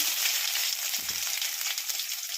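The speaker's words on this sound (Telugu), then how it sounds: "ఇది జీలకర్ర ఆవాలు వేస్తున్నాను" Cumin and mustard seeds frying in oil in a steel pan, making a loud, continuous crackling sizzle with small pops throughout.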